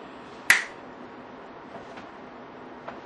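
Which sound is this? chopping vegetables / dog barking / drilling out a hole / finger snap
finger snap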